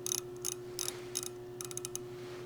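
A micrometer's ratchet thimble clicking in quick bursts as it is closed onto a stainless steel pump shaft, close, crisp ticking over a steady low electrical hum.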